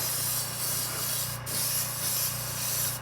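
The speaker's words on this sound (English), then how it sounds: "I can already start spraying the other side because it's already dried" Kreatex candy paint sprayed in thin coats from an airbrush or spray gun, a steady loud hiss with a brief break partway through.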